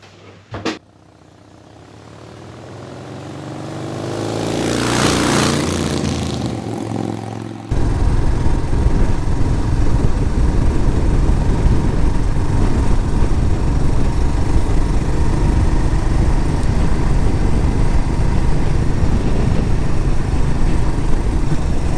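A Royal Enfield Classic 350 motorcycle on a ride out through the countryside. A brief knock comes first, then a rising rush that swells and fades. After that, a loud, steady engine drone mixes with wind roar and continues to the end.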